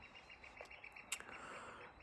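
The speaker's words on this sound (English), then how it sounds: "Can these birds shut the hell up?" Small birds chirp and tweet steadily outdoors, a dense chorus of short calls at moderate distance with no voices.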